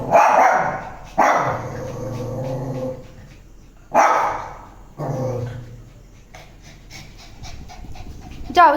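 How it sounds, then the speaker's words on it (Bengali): A dog barking at night, loud close bursts of barking with growls and panting between them, and a person faintly speaking underneath. "কুকুর আছে, কুকুর চিল্লাচ্ছে বলে এত চিল্লাচ্ছে।"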